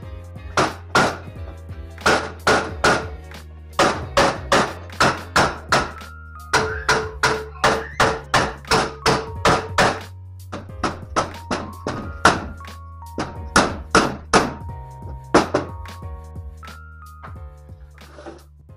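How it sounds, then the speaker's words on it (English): Repeated hammer blows knocking loose a grade 8 bolt during a camshaft job, sharp metallic thunks struck in quick bursts of several hits with short pauses between, loud and close with a low steady hum underneath. "I think my hammer got her loose there."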